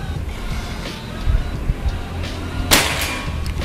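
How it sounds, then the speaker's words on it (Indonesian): One quick, sharp PCP air rifle shot (Bocap Predator Pajero Gun Gen 6, slug barrel) at a 50-meter range near the end, cracking over quiet outdoor background noise with some low rumble. "Tembakan kedua"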